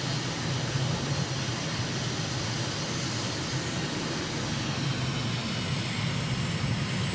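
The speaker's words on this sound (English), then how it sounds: "Adding power for this turn." Aircraft engine in Microsoft Flight Simulator adding power during the turn to final approach, a steady loud roar with a high whine that rises slightly in pitch near the end.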